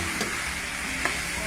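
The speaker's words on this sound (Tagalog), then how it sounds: "Ginisa muna, bawang sibuyas." Garlic and onions sizzling in a hot pan, with a steady fry hiss and a couple of light stirring knocks and scrapes.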